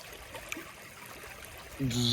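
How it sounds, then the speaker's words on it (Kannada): River water flows through an irrigation canal beside farm fields, making a steady, soft rushing wash. A louder, fuller sound cuts in near the end. "ಇಲ್ಲಿ ಕೆನಾಲ್ ಐತಿ, ಹೊಳಿ ನೀರು ಬರೋದಿರಿ ನಮ್ಮ ಹೊಲಕ್ಕೆ. ಚಂದ ಹರ್ಕೋತೈತಿ ರೀ."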